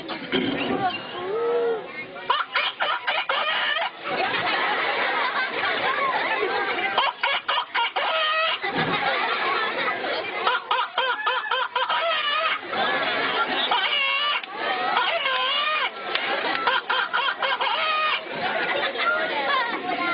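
A mimicry artist's voice imitates a rooster crowing in repeated drawn-out, wavering calls with clucking bits in between, close and loud, along with stretches of talk.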